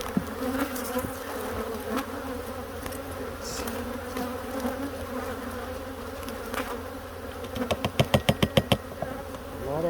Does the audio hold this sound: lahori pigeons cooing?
no